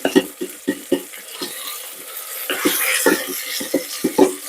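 Metal utensil scraping the bottom of an Instant Pot inner pan while cooking pork chops, a series of short rhythmic scrapes and clinks, close and fairly loud.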